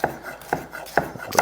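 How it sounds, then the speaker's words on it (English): Knife cutting a bell pepper into small julienne strips on a board, four sharp evenly spaced chops close by with quiet gaps between them. "Now I'm going to cut the pepper in half again through the middle."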